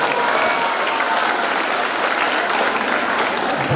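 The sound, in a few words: applause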